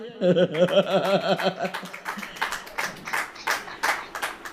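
A church congregation claps together in a steady burst of many hands, fairly close and loud, with a tonal voice or music at the start and some light laughter mixed in.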